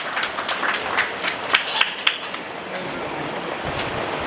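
Crowd applause at a mushaira poetry gathering in Bhiwandi: dense, continuous clapping from a large audience filling the whole stretch, with a few louder claps standing out and a voice faintly mixed in.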